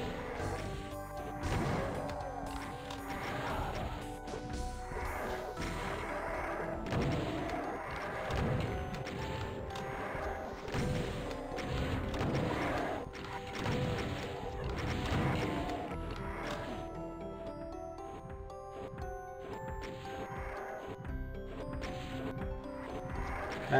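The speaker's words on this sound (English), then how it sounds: "I got crushed by my own crusher." In Doom II, on map 06 Pagodia, a crusher slams down on the player. Repeated heavy, crashing thuds land in a steady rhythm over continuous game music.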